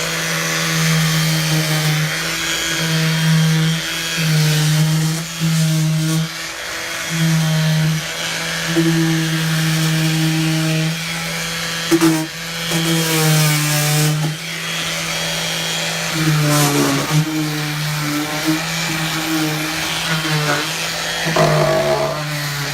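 A cordless sander with 80-grit sandpaper runs on painted furniture, a loud, near, steady motor whine that wavers in pitch and pauses briefly, with faint talk at moments.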